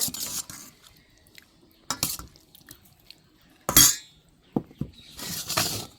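Chochchori curry made with fish, potato and dried lentil dumplings is served into a bowl, with bright utensil clinks and scrapes against dishware in scattered bursts, some louder and close, between quiet gaps.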